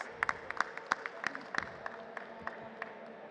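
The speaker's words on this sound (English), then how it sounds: "Can we have a round of applause, please?" Scattered, fairly thin clapping comes from the audience at an award ceremony at a hotel and travel technology forum. Sparse individual claps sound at a moderate distance in a quiet room.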